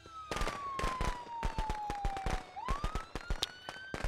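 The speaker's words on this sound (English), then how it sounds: "Throw some fireworks to get his attention." Rapid crackling bursts of fireworks thrown in the Friday the 13th video game, a dense string of sharp pops with a siren-like whistling tone gliding underneath throughout.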